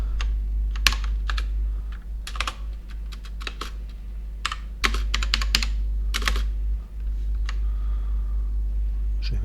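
Rapid, irregular keystrokes on a computer keyboard while entering TeX code, bursts of clicks with short pauses over a steady low hum, close and clear with no talking.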